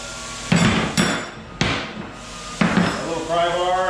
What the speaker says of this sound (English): A hammer